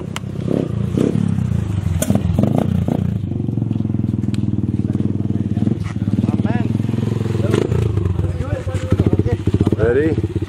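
A dirt bike engine idles and then revs as the motorcycle rides off on a trip in North Cotabato, Mindanao, with a loud, steady putter and rising revs under people chatting nearby.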